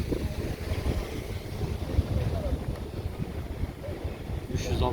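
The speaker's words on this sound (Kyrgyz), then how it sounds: "Шамал болуп келди го." Wind gusts at an outdoor used-car market under an awning in Osh, a steady low rumble of blustery air buffeting the microphone throughout, with faint background sounds.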